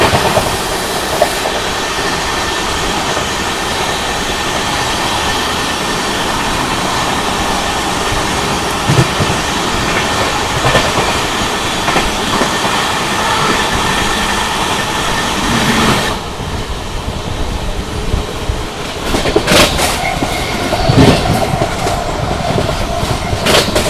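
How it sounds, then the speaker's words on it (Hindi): An AC Duronto Express from Hazrat Nizamuddin to Pune overtakes the Mangala Lakshadweep Express, heard from on board as a loud, steady roar of rolling wheels with rhythmic clickety-clack over rail joints and a brief rush of passing carriages near the end. "Overtaking Mangala Lakshadweep express."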